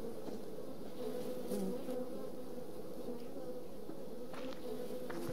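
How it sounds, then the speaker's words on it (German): Bees swarming around a bee nest in the survival game Subsistence, a dense, continuous droning buzz at close range with a few faint clicks over it. "Ein Bienennest haben wir jetzt."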